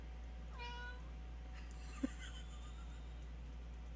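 A pet cat gives a single short, faint meow in a quiet indoor room, with no one talking.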